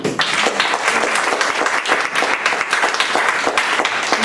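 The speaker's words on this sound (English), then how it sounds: "Will you please applaud Chandu Sa?" Audience applause at a cultural history seminar, a dense continuous crackle of many hands clapping at an even level throughout, close and loud with no talk over it.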